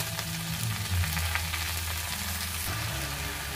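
Kalmi greens with onion and chili fry in a pan, giving a steady, close sizzle and crackle. Brief stirring scrapes rise above it, and no one speaks.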